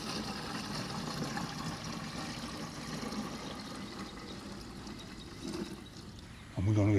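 Fish emulsion water pouring onto blueberry bushes in a garden, a steady wash of liquid running throughout under a low background hum, ending with a louder thump.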